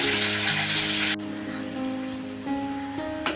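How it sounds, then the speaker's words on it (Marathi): Garlic, mustard seeds and curry leaves sizzle in hot oil in a pan as a tempering, a loud broadband hiss that drops sharply after about a second to a quieter crackle with steady tonal hum underneath. "हे बघा आता लसूण वगैरे चांगली फ्राय झालेली आहे"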